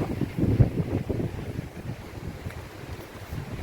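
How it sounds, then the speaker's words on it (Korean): Gusty winter wind buffets the microphone in low rumbling surges outdoors near Samseonggung in Korea, strongest early on and then easing to a steadier blustery roar. "바람이 오늘 많이 붑니다"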